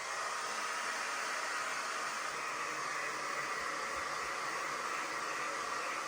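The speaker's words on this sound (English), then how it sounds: "I'm going to get the hairdryer on it." A hair dryer drying paint on a painting blows with a constant, even whooshing roar, close and unbroken throughout.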